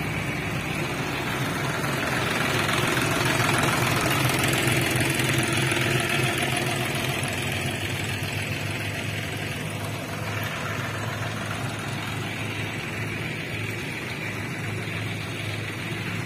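A tractor engine idles steadily throughout during street cleanup after New Year in Bali, a constant low chugging rumble with a faint knocking quality and no voices.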